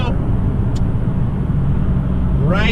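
A tuned Honda Civic X engine runs under boost with a slipping clutch, a loud, steady low drone inside the car, with a brief rising whine near the end.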